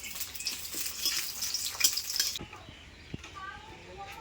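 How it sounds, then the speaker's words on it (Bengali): Dried red chillies fry in hot oil in a pan for a broken-rice khuder bhat dish, giving a steady crackling sizzle that cuts off abruptly partway through, followed by a few clinks and soft voices. "প্রথমে শাকগুলো ভাজার আগে আমি একটু শুকনো লঙ্কা ভেজে তুলে নেব"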